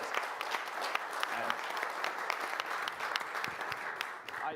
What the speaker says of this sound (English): Let's have a round of applause for Andrew Griffith, please.